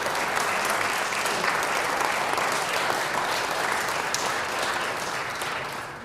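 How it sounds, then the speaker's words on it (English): Sustained applause from an audience at the close of a senatorial candidates forum, dense steady clapping that fills the room and fades slightly at the end. "a big round of applause for our candidates and our facilitators"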